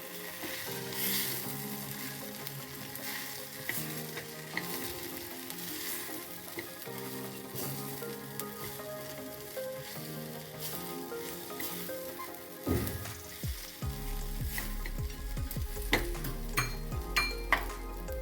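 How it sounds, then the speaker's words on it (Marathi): Ingredients for oats upma sauté in a little oil, sizzling steadily close up, with a spoon stirring and scraping the pan now and then and a brief clatter of utensils near the end. "छान परतून घ्यायचे थोडी तेलामध्ये."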